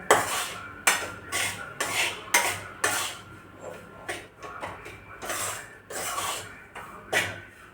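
A spoon scrapes and clinks against a pan while besan and rava are stirred together for besan barfi, with repeated rhythmic strokes, close and fairly loud, no talking.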